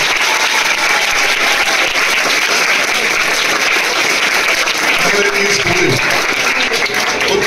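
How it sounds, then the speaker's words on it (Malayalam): An audience at a school Teacher's Day celebration breaks into sustained, loud applause for teachers, with a brief voice rising above the clapping near the end. "നമുക്ക് അവർക്ക് ഒരു നല്ല കൈയടി."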